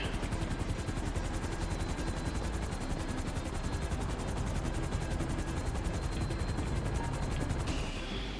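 A helicopter in the video game GTA 5 during the Cayo Perico heist makes a steady, dense rotor roar with rapid chopping pulses, loud and continuous from start to finish.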